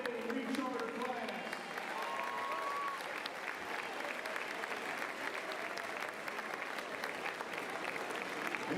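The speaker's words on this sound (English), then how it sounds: "Let's have a round of applause for the 2022 EHS Hall of Fame recharter class" A crowd applauds steadily throughout at a high school basketball senior night as the 2022 EHS Hall of Fame recharter class is honored, with dense, sustained clapping filling the gym and a voice briefly audible early on.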